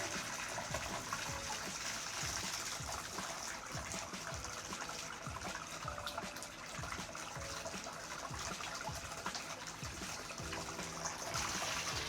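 Water runs steadily from a tap into a glass holding a thermometer, a continuous splashing rush with no talking, fairly close and even throughout.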